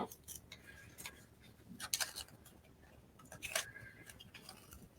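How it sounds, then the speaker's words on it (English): Sheet-metal style snips trim a small end tab from paper card for a handmade birthday card, giving a few crisp, close cuts over quiet room noise with no talking. "I'm just going to grab my snips and cut it."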